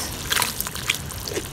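Water splashes and sloshes as it is poured onto dry black clay, in short close-up bursts with a wet trickle in between.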